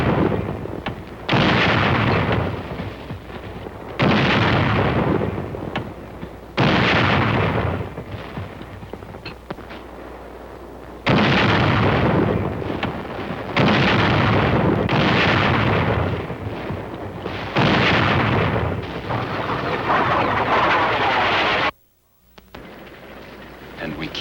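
Heavy Korean War battlefield fire, with artillery and gunfire booming in long, loud, broadband bursts that roll one after another, separated by brief lulls, then cutting off abruptly near the end.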